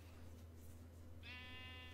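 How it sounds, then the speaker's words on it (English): A sheep bleats once in the Minecraft video game, a short wavering call that comes in late over a low steady hum, faint and alone. "I hear sheep."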